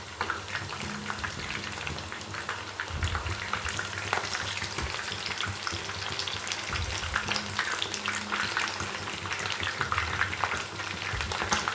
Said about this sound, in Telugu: ఇలా అన్ని పీసెస్ని స్లోగా టర్న్ చేసుకుంటూ 2 వైపులో మంచిగా గోల్డెన్ కలర్ వచ్చే వరకు ఫ్రై చేసుకోండి